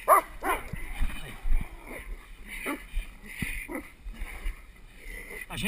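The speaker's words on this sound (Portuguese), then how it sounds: "Ajeita a bocada, olha pro cachorro, Diego" A dog barks in short, sharp bursts during a training session, its barks scattered across the clip between a trainer's spoken commands in Portuguese.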